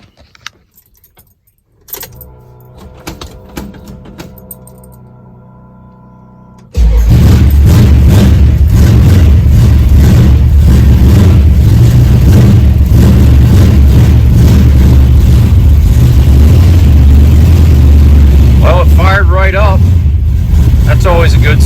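A carbureted engine fitted with an open carb spacer cranks with keys jangling first, then catches and settles into a loud, steady rumbling idle close by, with a voice briefly heard near the end.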